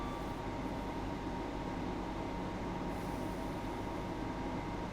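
Train running in Train Sim World 2, a steady, continuous rolling rumble of rail cars with a constant broadband wash and no clear beats, moderately loud throughout.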